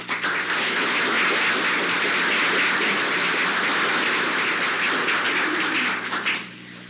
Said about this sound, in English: We'd all like to give you a round of applause for taking the effort to come to our kingdom